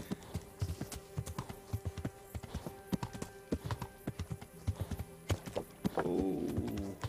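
Horse hooves clip-clop in a steady walking rhythm in the game Kingdom Come: Deliverance, fairly close, with a brief noisy rush near the end; game ambience underneath.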